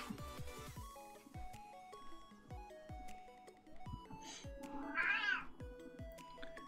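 A pet cat meows once, close and clear, partway through, over steady video game music with a plucked, percussive rhythm.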